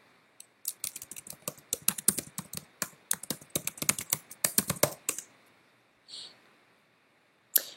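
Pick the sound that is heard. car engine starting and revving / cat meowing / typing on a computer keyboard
typing on a computer keyboard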